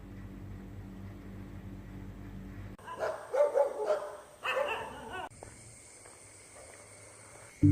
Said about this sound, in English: The street dogs just hang out with you, keep you company